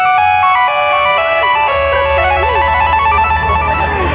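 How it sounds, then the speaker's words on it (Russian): A phone SMS alert ringtone plays as a loud, continuous electronic melody of bright stepping tones, steady for several seconds with no voices. "родители получают СМС-оповещение"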